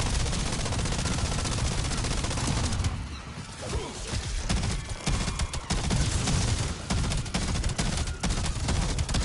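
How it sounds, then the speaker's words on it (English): Rapid automatic gunfire rattles in Call of Duty Black Ops 7 Zombies, dense bursts of shots in long strings with a brief lull partway through, loud and close over game noise. "Let's go ahead and shoot the ground, take these guys out"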